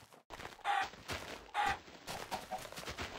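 Chickens in the Minecraft video game give a few short clucks in quick succession, clipped and close, over a quiet background.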